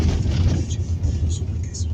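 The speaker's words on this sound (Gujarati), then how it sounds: "આ જુઓ તમે અમે ઉપર ગાડી ચડાવીએ છીએ તળાવની ઉપર" A car climbs up onto the embankment of a lake at a bird sanctuary, its engine a steady, close rumble heard from inside the vehicle, with voices talking over it.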